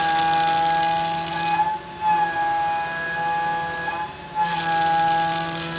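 A Haas DM2 CNC mill cutting aluminum at 100 thou depth, 300 inches a minute and 1.5 inch stepover, loud and close, a sustained whining tonal roar with steady pitched harmonics and hissy bursts at the start and end.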